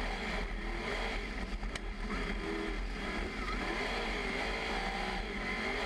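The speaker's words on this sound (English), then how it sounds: "you could hear how hard they are on the throttle and how they have to breathe it on the slick spots" A sprint car engine heard from an onboard camera during an ENZED World Series Sprintcars race at Mt Gambier roars steadily at high revs, with slight throttle dips, a distant, muffled drone.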